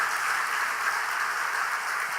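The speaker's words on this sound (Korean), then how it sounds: "우리 감사하는 마음으로 박수 한번 하십시다." A church congregation at a Korean Wednesday evening worship service applauds in thanks, a dense, even wash of clapping that holds steady for a couple of seconds with no voices.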